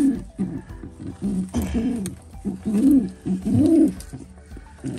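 Pigeons give soft, low repeated coos in short rounded bursts, close by, beside newly hatched chicks; a few brief rustles and faint clicks fall between the calls, with no talking.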